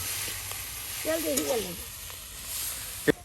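Leafy-green fritters fry in plenty of hot oil, giving a soft, steady sizzle, with a brief tonal voice-like sound partway through and a sharp clink near the end.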